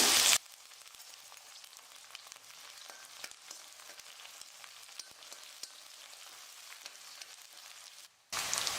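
Small onions and curry leaves sautéing in hot oil for vatha kuzhambu, a steady close sizzle with soft crackles throughout, and no one speaking over it.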